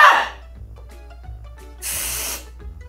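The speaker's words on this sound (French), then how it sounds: "ça fait vraiment le bruit d'une mousse à raser" Short bursts of pressurized spray hissing from a shaving foam can: a quick blast, a pause with faint clicks, then a longer, steadier half-second spray.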